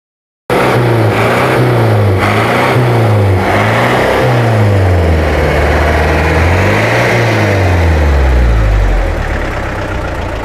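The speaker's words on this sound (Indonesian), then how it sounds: "untuk mobil ini sudah dilakukan swap engine dengan mesin diesel ya" A black Chevrolet Blazer fitted with a swapped PS100 diesel engine runs loud and close, revving up and down in repeated rising and falling sweeps before settling toward a steadier, deeper rumble.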